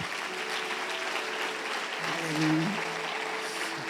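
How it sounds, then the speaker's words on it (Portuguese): A church congregation applauding during a service, steady clapping filling the room throughout, swelling briefly near the middle, with a sustained tone and voices underneath. "Dê uma salva de palmas ao Senhor."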